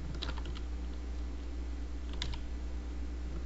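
Computer keys are pressed in two short bursts, the second including the Enter key being struck to run Python code in Blender. The clicks sound close and crisp over a steady low electrical hum.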